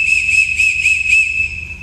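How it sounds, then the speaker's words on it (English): An emergency whistle at an archery range is blown five times in quick succession, each blast piercing, loud and close, followed by a brief fading tail. "If you hear me blow this whistle"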